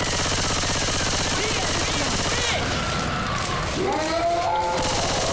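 Rapid bursts of automatic gunfire crackle and thud continuously in the Left 4 Dead 2 video game, loud and dense throughout, with heavy impacts layered in toward the end.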